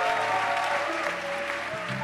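A church congregation claps and cheers for Jesus, a thick continuous roar of applause that stays loud and even throughout, with no single voice standing out.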